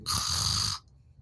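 A single loud, rasping snore lasting under a second, close by, then quiet breathing noise.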